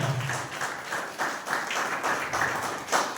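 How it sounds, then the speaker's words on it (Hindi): Church congregation clapping loudly for the Lord during a sermon, a sustained, even ripple of many hands heard at moderate distance, continuing throughout with little voice. "प्रभु के जोरदार ताली बजाओ"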